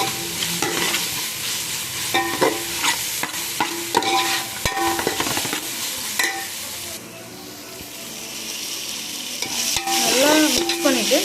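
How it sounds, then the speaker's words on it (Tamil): Biryani masala is sautéed in a pan for mushroom dum biryani, with a spatula repeatedly scraping and stirring over a continuous sizzle; it quiets briefly partway through, then the stirring picks up again loudly. "நல்லா வதக்கிக்கலாம். ஒரு 2 நிமிஷம் நல்லா வதங்கினா போதும்."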